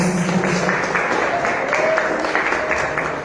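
A church congregation claps during an evening communion service, a steady wash of many hands sustained throughout, with faint voices mixed underneath.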